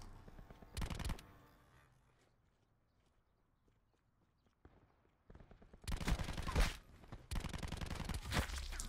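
Bursts of gunfire in Black Ops 4 hardcore free-for-all crack out in loud clusters, a short volley first, then a quiet stretch before heavier rapid strings of shots return.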